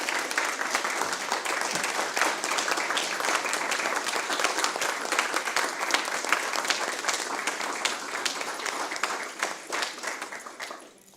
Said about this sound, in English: Please join me in giving a well-deserved round of applause to Ms. Freddie